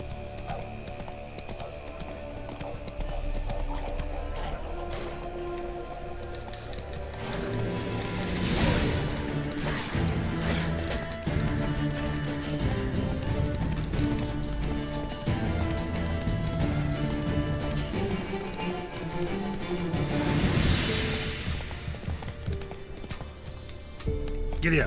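Horse hooves clip-clop in a steady galloping rhythm in The Witcher 3: Wild Hunt, joined by game music and effects while a person talks over it.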